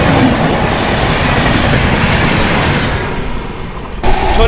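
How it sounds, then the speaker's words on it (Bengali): The 22834 SMVT Bengaluru–Bhubaneswar Humsafar Express crosses close by with a loud, steady rail rumble and wheel clatter that fades slightly near the end. "ক্রস করছে হামসাফার এক্সপ্রেস।"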